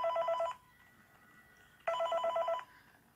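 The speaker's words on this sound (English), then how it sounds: "Phone ringing." Telephone ringing in the horror game Mine Nights at Freddy's 3, heard as two separate bursts of a bright trilling electronic bell with a pause between them, loud and close, with no talk over it.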